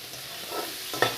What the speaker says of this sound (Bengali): এই যে এটা ভেজে নিলাম একটু তেলের মধ্যে